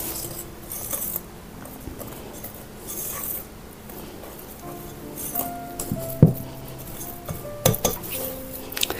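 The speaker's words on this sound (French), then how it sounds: "On remue." Apple cake batter of flour and baking powder stirred in a bowl: a quiet start, then repeated metallic clinks and taps of a utensil against the bowl, growing louder and more frequent toward the end, no talking.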